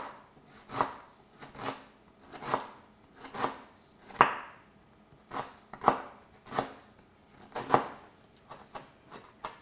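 Lemongrass being finely chopped with a knife on a cutting board, a steady series of about a dozen crisp, close thuds at an even, unhurried rhythm.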